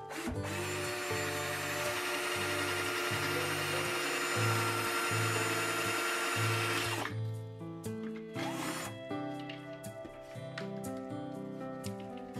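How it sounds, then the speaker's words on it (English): A power drill cuts a drain hole in the bottom of a dried homegrown gourd birdhouse, whirring steadily and close for several seconds before breaking into intermittent rattling bursts. "And now we'll drill a hole in the bottom for a drain."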